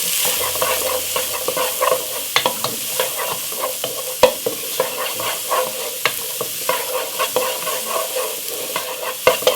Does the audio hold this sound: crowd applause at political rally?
no